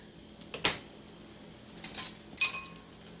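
A metal spatula scrapes and clinks against a pan while flipping Fruity Pebble French toast, with one sharp clink followed by a couple more scraping knocks a moment later, close and fairly quiet.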